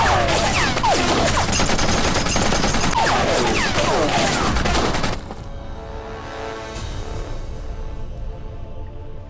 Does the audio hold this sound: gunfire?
yes